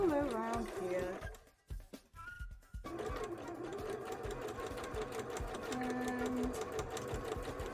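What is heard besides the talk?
sewing machine stitching a bra cup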